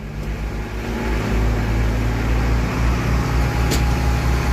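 Mitsubishi 4M40 diesel engine running steadily in fourth gear, a close, continuous low drone with a sustained hum throughout and no talk.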